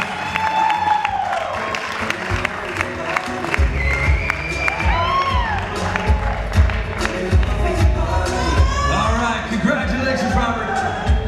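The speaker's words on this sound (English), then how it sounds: "Let's give all these guys a round of applause." A crowd at a men's classic bodybuilding championship cheers and applauds loudly and continuously, with whoops and shouts over dense clapping that swells after a few seconds.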